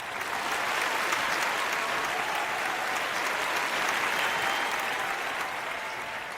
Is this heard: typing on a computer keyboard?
no